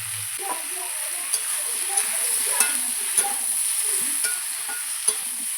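Spices with salt, turmeric and chilli powder sauté in a pan for a fish curry, a soft continuous sizzle with occasional light spoon taps and stirring strokes close by.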